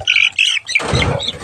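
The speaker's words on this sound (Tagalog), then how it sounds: "Ay, pumasok na yung mga sisiw." Young chicks squawk in two loud, shrill bursts at close range, then a rougher flurry of chirps and rustling follows as they crowd in.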